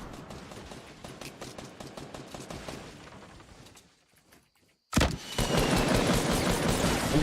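Fortnite gunfire rattles in a rapid fusillade that fades into near silence, then a sudden loud burst of dense shooting and noise returns close up.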